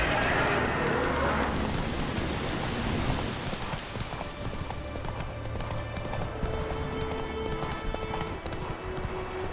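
Clip-clop of the horse Roach galloping in The Witcher 3, a steady rapid hoof rhythm carried throughout over rain-like ambient patter and faint game music, fairly close and continuous.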